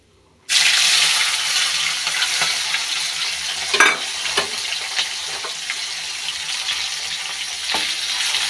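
Chopped onion drops into a pan of fried potatoes and boiled bean seeds with bay leaf, setting off a sudden loud sizzle that settles into steady frying with a few stirring scrapes.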